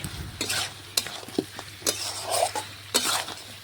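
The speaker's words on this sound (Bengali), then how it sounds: "তো দেখুন ভালোভাবে নাড়াচাড়া করে আলুগুলো মটনের সাথে মিশিয়ে নিলাম।" Potato chunks and mutton are stirred together in a frying pot for a papaya mutton dish, with several close scraping strokes and clinks of the spoon against the metal over a light sizzle.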